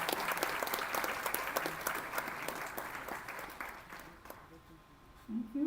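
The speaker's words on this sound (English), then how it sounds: "can I have a loud round of applause for all the participants?" An audience applauds the participants at a World Environment Day event, with dense clapping filling most of the clip, fading near the end as a voice starts to speak.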